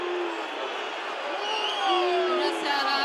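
Stadium crowd booing and jeering the mayor as he walks out of a Romanian stadium, a steady, loud wash of massed voices with scattered shouts throughout.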